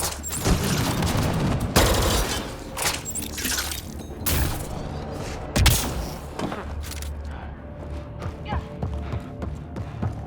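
Gunfire rattles during a raid on the Archon ship in Mass Effect Andromeda: loud rapid volleys with sharp bangs and thuds, and voices are heard over the shooting.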